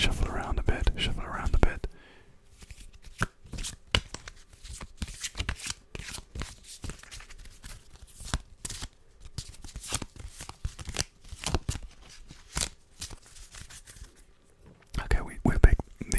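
Close-up card shuffling, crisp riffles and shuffles in bursts, with soft whispering at the start and end.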